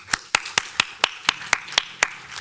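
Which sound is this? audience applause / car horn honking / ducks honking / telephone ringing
audience applause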